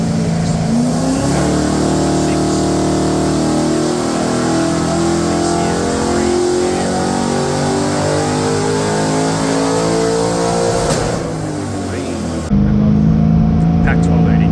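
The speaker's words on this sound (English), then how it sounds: "It's a LQ4, which is an Iron Block Gen 3 6 litre motor." A car's LQ4 iron-block 6-litre V8 revs on a hub dyno, climbing through rising harmonic engine tones for about ten seconds before dropping off, then settling into a loud idle, with a voice speaking over it.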